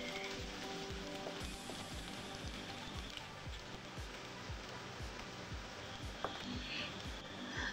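Green chilies stir-fried in a pan for pav bhaji give a steady, close sizzle, broken by regular low scraping pulses from stirring throughout.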